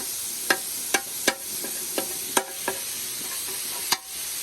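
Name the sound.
carne asada sizzling on a Blackstone griddle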